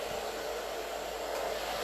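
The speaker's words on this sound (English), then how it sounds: "That's my blow dryer." A handheld blow dryer runs steadily and close by, a continuous whooshing hum of airflow that holds level throughout with no voices.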